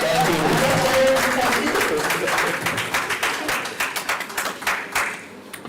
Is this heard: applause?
yes